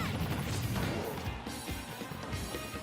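Up smash attack landing in a Super Smash Bros. grand finals match, Donkey Kong against Pyra and Mythra, heard as crashing hit impacts inside a dense wash of crowd noise and game sound.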